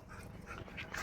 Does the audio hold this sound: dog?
yes